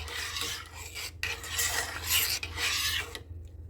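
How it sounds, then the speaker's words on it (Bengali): Payesh, a rice and milk pudding, being stirred in a pot: a steady close scraping rasp in long sweeps with brief pauses, over a low hum, no voices. "এটাকে আমি আরেকটু ভালো করে নেড়ে চেড়ে কয়েক মিনিট রান্না করে নিব"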